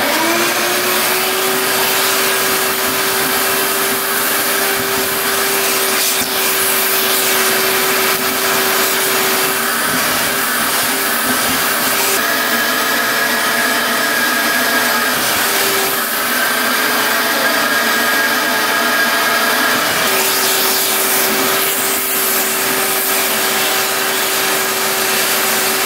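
A vacuum cleaner runs steadily and loudly, sucking out debris from the grimy battery box of a 1967 Yamaha motorcycle that sat untouched in a barn for over 40 years; the motor hum holds a constant pitch with slight shifts as the nozzle moves.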